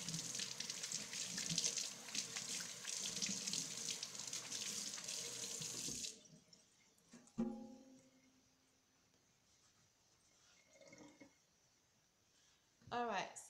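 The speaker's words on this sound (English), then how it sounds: "Need to wash my hands real quick." Tap water runs hard into a kitchen sink for about six seconds while hands are washed, then shuts off, leaving quiet handling noises and a voice speaking near the end.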